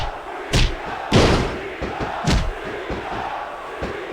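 A roaring arena crowd in the wrestling video game SmackDown vs Raw 2006 keeps up a steady wash of cheering, broken by a few heavy thuds and slams from the ring, with no voices standing out.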